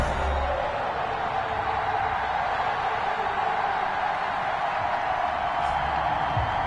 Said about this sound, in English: This crowd is ready as their guys get set to match up with the New England